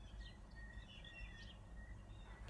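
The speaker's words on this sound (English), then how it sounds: "There's a lot of beautiful birds with some really nice singing voices here." Faint birdsong chirps and trills in the distance from woods around an abandoned commune, over a low, steady background rumble.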